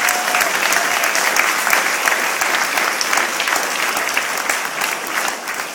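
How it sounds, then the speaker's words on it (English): Loud, dense applause from a gathered crowd, clapping close and continuous before easing slightly at the end. "Let's give them a nice round of applause."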